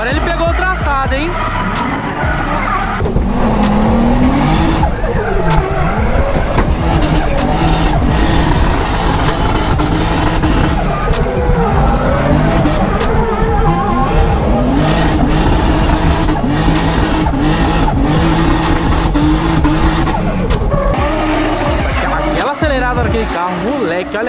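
Drift cars at a drift championship, loud, continuous engine revving with long tire squeals and skidding runs, sustained and close, with people shouting and talking over the noise.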